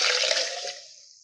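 Water, two cups of it, splashes into a blender jar of mint leaves, lemon, black salt and sugar for lemonade, a short, full gush that quickly tapers off and fades to quiet.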